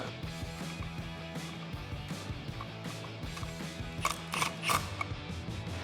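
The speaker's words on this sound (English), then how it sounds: "I actually gotta bring my top down, my hoist-A-Top down." A Lange Power Hoist-A-Top lowers the hardtop of a Jeep Wrangler JL, giving a quiet, continuous mechanical whir with ratcheting clicks and a few louder clunks near the end.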